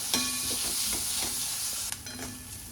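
Oil heats in a pan for egg bhurji, giving a steady close sizzle with a few scraping stirs and light clinks, then a short dip in level near the end.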